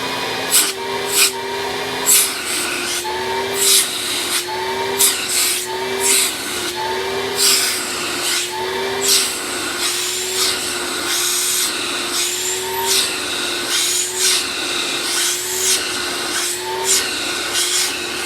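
A Riccar 8955 vacuum cleaner, switched on after sitting unused for over a year, runs loudly and steadily, with a pulsing hum and repeated rattling clicks throughout.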